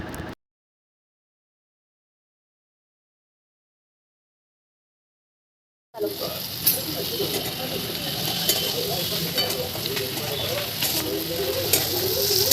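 Chilli chicken pakoras stir-fried with onion, capsicum and sauce make a steady sizzle and scraping stir with some steam hiss, starting suddenly after a long silence and running continuously to the end.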